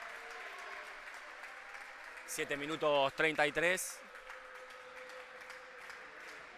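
A crowd at a Copa Argentina football match between Asturiano and Villa La Ñata applauds the goalkeeper, a steady clapping wash under a commentator's voice, which rises in pitch briefly mid-stretch.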